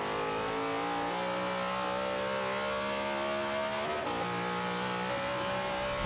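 Z06 Corvette racing in A class in Forza 5, engine droning at steady high revs with a brief shift dip midway, loud and continuous with no talking.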